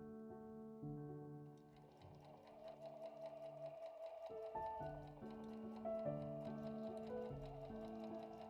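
A sewing machine stitches small fabric pouch pieces in steady rapid bursts, running continuously up close with brief pauses and changes in speed, no voices over it.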